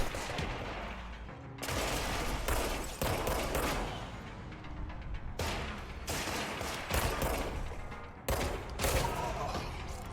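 Rapid bursts of gunfire from the action video game Control fill the scene, with dense overlapping shots and volleys, loud and close, broken by brief pauses.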